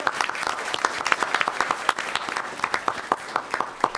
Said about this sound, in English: So let's give a round of applause for biotechnology.